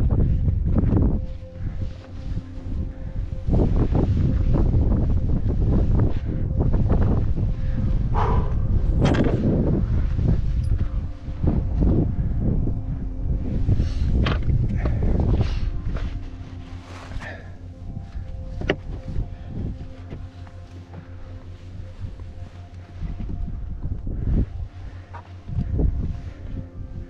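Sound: wind blowing on a mountain

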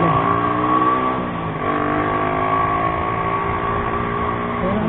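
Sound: engine revving with possible carburetor misfire

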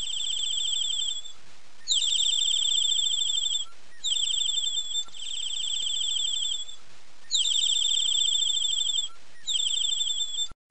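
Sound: birds chirping

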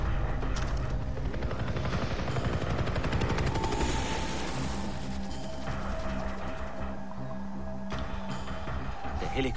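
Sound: helicopter in a video game

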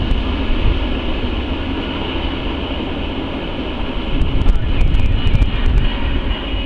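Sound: transfer freight train moving cars between rail yards

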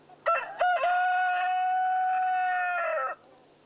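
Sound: chickens and rooster crowing on a farm

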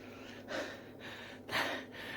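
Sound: heavy laboured breathing while clearing snow

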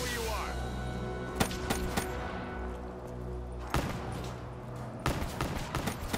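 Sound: pistol gunfire in video game Black Ops III Zombies

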